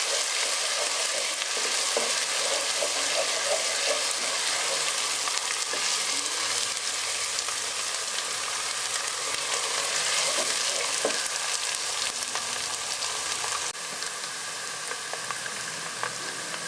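Tomatoes fry and get stirred in a hot pan for an aloo palak chicken dish, making a steady, dense sizzle that runs close and unbroken, with faint scraping from the stirring throughout.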